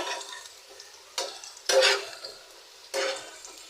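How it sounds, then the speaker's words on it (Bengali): Potatoes fry in a pan with intermittent bursts of sizzling and stirring scrapes, four distinct surges over a low steady crackle, close and moderately loud with no talking. "এখানে আমি আলুটা ভাজতেছি"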